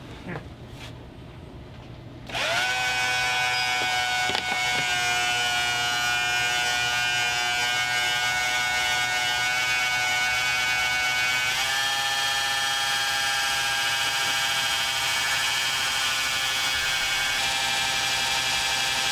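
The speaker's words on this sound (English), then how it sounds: "So, noisy pump." A noisy electric pump aboard a sailboat starts up after a short quiet lead-in and runs with a steady, high-pitched whining drone. The tone shifts slightly partway through and the pump keeps going at a constant level.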